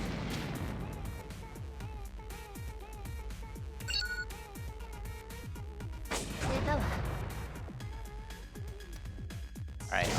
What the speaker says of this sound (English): our artillery just took a hit there